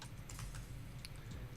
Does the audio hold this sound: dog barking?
no